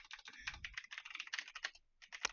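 Rapid clatter of keys on a computer keyboard, close and fairly quiet, with uneven bursts of typing and a brief pause near the end.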